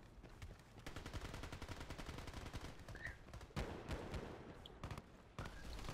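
AK-47 gunfire in a video game: dense, rapid automatic fire that runs almost without a break, with a few louder, sharper shots standing out toward the end.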